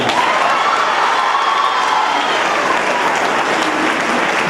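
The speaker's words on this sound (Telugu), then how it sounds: "వినిపించండి మీ చప్పట్ల సవడి" An audience at a 7th annual day function applauds after a speech, with loud, sustained clapping and a few faint cheers filling the hall throughout.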